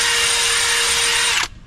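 A Milwaukee M18 Fuel cordless drill whines at a high steady pitch as it strains to drive a NighCo jack lifting a dump trailer, then cuts off abruptly near the end, leaving faint room noise.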